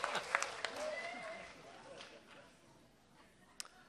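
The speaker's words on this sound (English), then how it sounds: "Can we both give them a round of applause here?" Spelling bee audience applause bursts out briefly and fades within a couple of seconds, with people talking over and after it.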